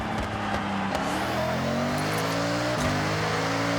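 Datsun 240Z engine revving in the Forza Horizon 6 racing game, rising and falling through several quick throttle sweeps, loud and close with no voices.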